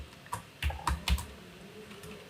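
A few quick keystrokes tap on a computer keyboard while HTML code is written for a WordPress theme footer, faint and close, in a short irregular cluster with quiet pauses.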